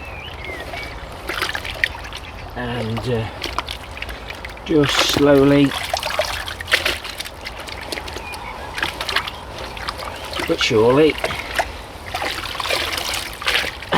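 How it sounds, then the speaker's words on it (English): Leek seedlings are teased apart in a tub of freezing water, giving soft trickles and occasional splashes beneath a speaker's steady talk. "just pop them into a tub of water"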